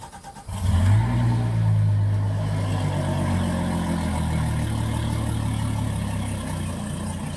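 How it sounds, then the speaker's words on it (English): A boat engine, supplied with water from the lake, cranks and fires after a key turn in neutral, then settles into a loud, steady low running rumble close by with no talk. "start the engine, which is simply turning the key"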